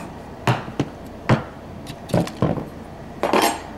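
Metal plate being taken off an RF 1000 commercial door knob, giving a handful of close, sharp metallic clicks and clinks spaced irregularly over quiet room noise.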